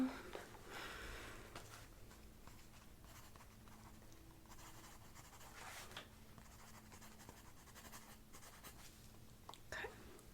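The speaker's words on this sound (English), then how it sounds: "Write this down." A pen scratches down measurements in a quiet, up-close session. Soft, continuous writing strokes sit near the microphone, with faint breathy sounds in the background.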